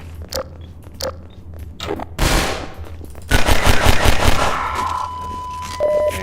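Rapid bursts of gunfire from a weapon in the video game Half-Life 2, a sharp shot near the start followed by a loud sustained volley, with a ringing tone trailing off at the end.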